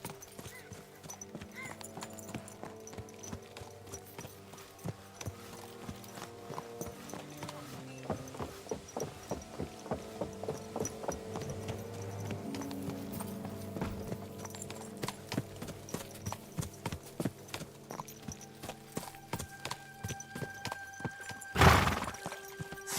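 Steady clip-clop of a ridden mare's hooves in Kingdom Come Deliverance 2, a regular close walking rhythm over game ambience, with a brief whinny or crash near the end.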